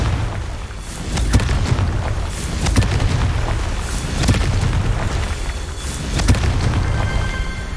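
Confringo fire-blast spell in the Hogwarts Legacy video game, a loud continuous rumbling roar of blasts with repeated sharp bursts and cracks spaced every second or so.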